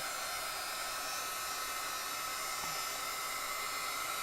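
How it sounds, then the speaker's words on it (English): A hair dryer blows on fresh paint, a loud, constant close-up whir that holds steady throughout with no voices. "So the dryer's going to be on for just a couple of,"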